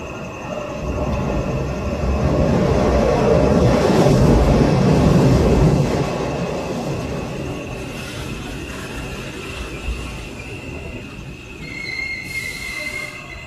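A train rolls into a station in an animated night story, wheels squealing and carriages rumbling loudly, swelling to a peak midway and then easing off as it slows, with a faint high whine lingering near the end.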